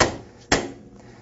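Two sharp metallic strikes from a dead blow hammer on a spanner wrench fitted into the end-cap holes of a waterjet intensifier, loosening the end cap. The blows land about half a second apart, close and loud, with no talk.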